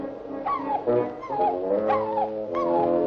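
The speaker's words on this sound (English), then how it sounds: "you bad dog" A dog whimpers and whines in a series of high, wavering cries, close and fairly loud, several short plaintive yelps running one into the next.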